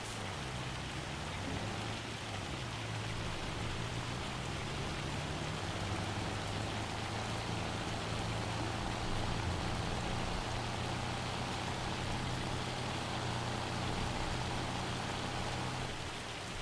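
Hailstorm weather in the farming video game Farming Simulator 25 gives a steady, dense rain-like hiss of drops beating on surfaces, with a low continuous hum underneath and no speech.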